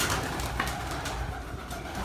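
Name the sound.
pigeons cooing in a loft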